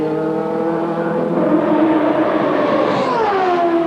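Nigel Mansell's Indy race car at the 1993 Indianapolis 500 screams around the circuit at full throttle, a loud sustained engine howl that shifts pitch as it passes and downshifts near the end.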